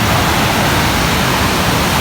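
Loud, continuous wash of breaking ocean surf at Cibuaya Beach, Ujung Genteng, a dense roar that holds steady with no gaps and no speech.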